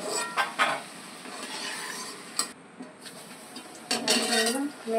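Fried nimki lifted out of very hot oil in a home kitchen: metal utensil clinks and scrapes against a pan, with a few sharp knocks and a sizzling, clattering burst near the end, no talk.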